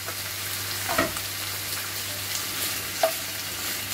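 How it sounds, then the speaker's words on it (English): Pork lardons and carrots frying in a pan make a steady, close sizzle with a couple of brief stirring clinks, continuous throughout without talking. "I'm going to go ahead and throw in my lardons"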